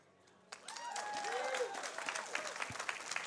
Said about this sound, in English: We got a full house in here, so I expect some clapping.